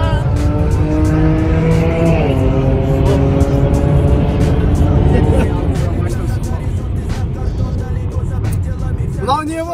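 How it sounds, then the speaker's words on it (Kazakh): A supercharged 3-litre, 330-horsepower Jaguar petrol car accelerating hard in a race against a Tesla, its loud engine rising in pitch through several gear changes, heard from inside with people talking over it. "Дәл қазір жарысқа шығатын боламыз Ягуармен."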